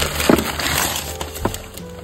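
A blue drinking glass clinks a few times against other items as it is lifted from a mystery box of mugs and cat toys, with sharp close taps and some rustling.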